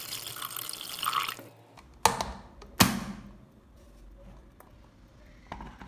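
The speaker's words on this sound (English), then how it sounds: "Pour in just enough water to cover the eggs." Water pours over a few eggs in an electric kettle, a steady splashing stream for about a second and a half, then stops, followed by two sharp knocks and faint clinks in a quiet kitchen.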